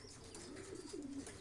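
Pigeons in a flock of about fifty birds coo softly, two low rolling coos rising out of steady loft ambience, quiet and close with no talking.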